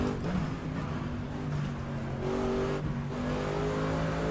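GT3 race car fitted with an RSS mod, driven in a racing sim, its engine holding a steady, buzzy drone with faint shifts in pitch, loud and continuous throughout.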